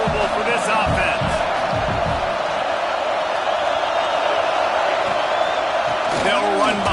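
A stadium crowd at a football game keeps up a steady, dense roar of cheering and noise that bears down on the offense, with faint commentary running underneath.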